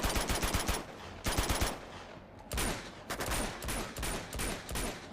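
Rapid automatic gunfire in the video game Uncharted 2: Among Thieves, bursts of rattling shots in quick succession with brief pauses between volleys, loud and close.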